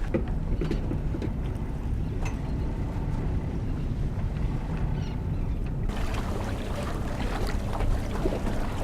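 A boat cruising along on calm water, its engine and hull wash forming a steady, moderately loud rush with wind buffeting, plus a brief sharper surge partway through.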